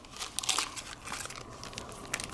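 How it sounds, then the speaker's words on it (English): A plastic zipper bag holding an old 1970s Otis elevator capacity plate crinkles softly and close up in quick irregular rustles, with no talk over it. "you got a plastic bag with a zipper on it"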